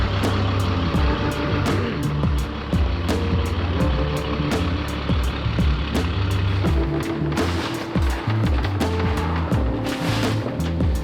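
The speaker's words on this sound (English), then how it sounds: "I think we're gonna back the truck up" A truck backs up with a repeating reversing beep pulsing steadily over its idling engine rumble, close by and continuous, with a few knocks and clatters toward the end.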